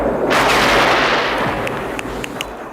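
Gunfire in a Rambo film battle scene, soldiers firing from below: a loud, close burst of heavy shots with a broad roar, followed by a few sharp, distinct cracks fading off.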